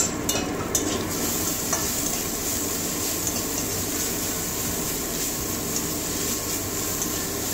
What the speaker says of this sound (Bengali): পেঁয়াজটা ভাজা হয়ে গেছে, এবারে আদা রসুন কুচি দিয়ে পেস্ট দিয়ে দিচ্ছি